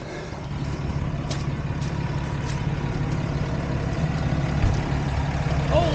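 A delivery truck hauling a tracked backhoe rolls up, its engine giving a steady low rumble that grows slightly louder and closer, with no talking over it.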